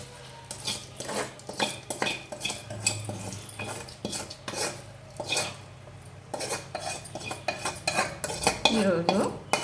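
A spoon scrapes and clinks repeatedly against a metal pan while stirring a spice tempering for a drumstick-leaf and sesame-powder curry. The irregular metallic taps are close, with a faint sizzle underneath.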